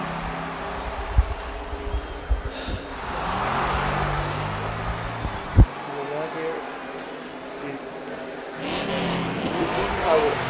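A race car engine drones and shifts pitch through laps in Big Win Racing, steady mid-level motor tone with occasional bumps, under someone talking.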